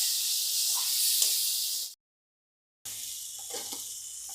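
Spice paste of turmeric, coriander, cumin and Kashmiri chili powder fries in a pan for soybean curry, giving a steady loud sizzle that cuts out briefly and then resumes with faint stirring clinks.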